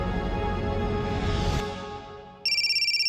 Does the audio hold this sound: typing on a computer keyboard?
no